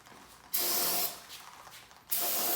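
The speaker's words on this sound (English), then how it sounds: "Spray it out with some brake clean." Brake cleaner sprayed from an aerosol can into a Honda engine cylinder during an 800 hp build: two loud, steady hissing bursts, the first lasting about a second and a half, the second starting near the end, with a brief pause between.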